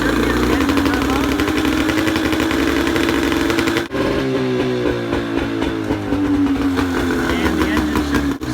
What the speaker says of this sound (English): by this, we should hear the engine rev up